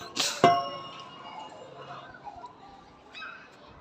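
A dog lying on the ground below a home's railway-track view gives a short, sharp yelp nearby, followed by a few faint, thin whining tones over quiet room background.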